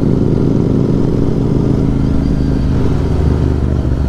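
A motorcycle engine on a Sunday ride drones loud and steady at close range, a dense continuous roar with slight rev fluctuation and no talking.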